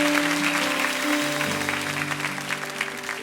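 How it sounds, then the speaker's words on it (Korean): A church congregation applauds, a full steady clapping from many people over a sustained organ-like musical tone, fading slightly toward the end. "나올 때 우리 큰 박수로 주일학교를 축복합니다."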